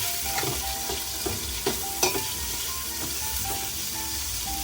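Onion, garlic and ginger sautéing together in a pan for pork sinigang, a steady close sizzle with occasional clinks and scrapes of a spatula, one louder knock near the middle.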